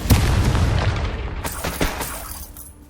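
A Confringo blasting spell in Hogwarts Legacy goes off with a loud, booming explosion, followed by a few sharper crackling bursts and rumbling debris that slowly fade, with no talking.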